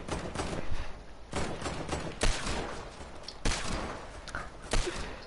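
Video game gunfire in a German-language multiplayer stream, with bursts of rapid shots that repeat in loud, broadband volleys every second or so and no talking over them.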